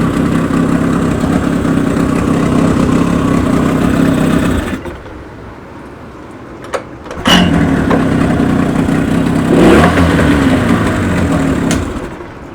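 A Mikatsu 30 outboard motor runs loud and steady nearby, its drone dropping away for a couple of seconds with a few sharp clicks and knocks before the engine note returns at full strength.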